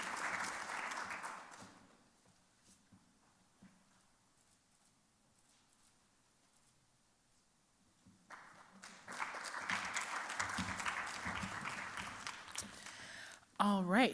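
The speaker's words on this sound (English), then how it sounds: "Let's give them a round of applause." Audience applause for panelists at a conference session on youth incarceration, with a burst of clapping at the start that fades to near quiet before a second louder round of applause swells up and continues to the end.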